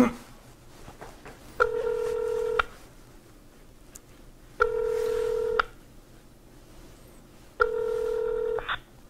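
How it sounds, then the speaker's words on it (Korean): Three long, loud telephone ringback tones of a call being placed to an office, each lasting about a second, separated by quiet gaps, with no talk over them. "대표님한테 전화를 걸겠습니다"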